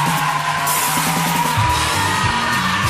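Studio audience on a Spanish late-night TV show cheering and yelling, with whoops and a dense crowd roar that holds steady and loud across the whole stretch.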